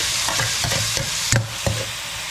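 Onions and tomatoes sautéing in a pan for a Filipino bottle gourd and moringa dish: a steady close sizzle with a few soft scraping stirs and clinks, no voices.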